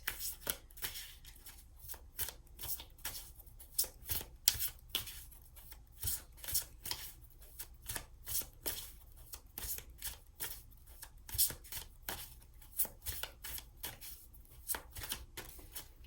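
Tarot cards are shuffled and drawn by hand, making quiet, rapid papery clicks and riffles in an uneven but steady rhythm across the whole stretch.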